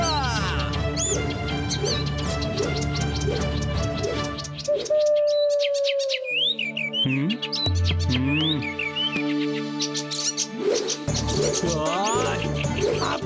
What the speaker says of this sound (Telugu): ఆ పక్షులు మన పంటను తినేస్తున్నాయి